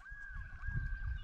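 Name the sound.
gull calling near rocky breeding site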